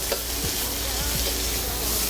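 Aromatics for stir-fried jjamppong crackle loudly in a hot wok, a dense continuous sizzle with brief scraping strokes from stirring and no speech.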